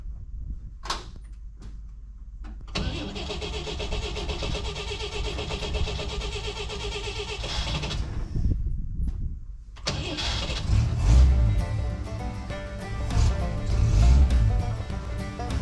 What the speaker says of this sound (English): let's see how this thing starts after sitting for a long time